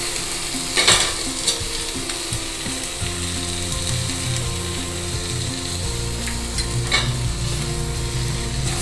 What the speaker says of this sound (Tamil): நல்லா தக்காளி நல்லா தக்காளி வெங்காயம் சேர்ந்து நல்லா வதங்கணும்